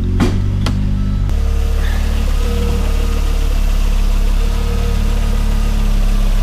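An Audi 5000 CS Quattro engine idles steadily and loudly after a couple of brief clicks at the start, a smooth continuous low hum with no voices.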